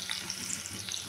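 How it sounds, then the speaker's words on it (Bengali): Boiled potatoes dropped into hot oil give an even, close sizzle with a soft, bubbly hiss throughout. "তেল গরম করে নিলাম, নিয়ে সেদ্ধ আলুটা দিয়ে দিলাম। সেদ্ধ আলুটা একটু ভেজে নেব।"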